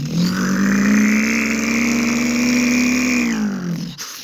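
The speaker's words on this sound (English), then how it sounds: "You heard my new sound of my exhaust?" A toy-style Jackson Storm race car gives a sustained, loud engine drone with a steady buzzing pitch that holds and then drops away near the end, with no talking over it.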